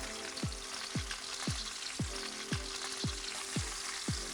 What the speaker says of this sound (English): Everything's sizzling, searing in all the flavor.